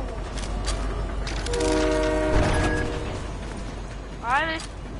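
A train in the video game Fortnite sounds its horn in rising tonal blasts over a continuous rumbling rail bed, with players' voices talking over the game audio.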